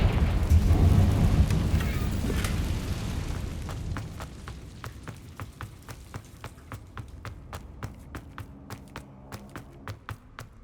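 The Confringo explosive spell in Hogwarts Legacy goes off as a heavy rumbling blast that rolls and fades, followed by a rapid run of sharp crackling impacts that continue to the end.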